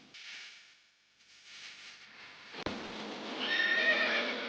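Horses in fields at a village museum in Turku, Finland, give a loud whinny that rises to a shrill, drawn-out call after a sharp knock, heard over a soft breathy background.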